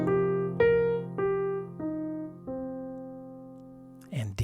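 Arpeggio played note by note over a sustained low tone, rising then falling in evenly spaced eighth-note attacks, clear and close, ending with a brief rustle.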